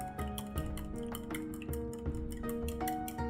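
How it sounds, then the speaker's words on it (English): A whisk or utensil taps briskly against a bowl while three large eggs are beaten, giving a quick, steady run of light clinks and ticks heard up close and fairly soft. "Crack 3 large eggs in the bowl. Stir and mix them evenly like so."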